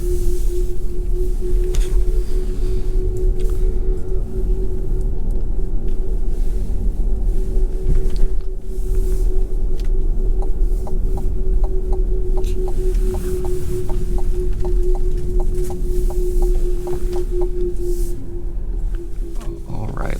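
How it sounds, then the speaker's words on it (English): Steady low pedestrian-warning hum from a 2024 Cadillac Lyriq all-wheel-drive electric SUV put into drive, a constant drone running throughout at moderate level with faint clicks near the end. "as soon as I put it in drive, you hear kind of this humming noise"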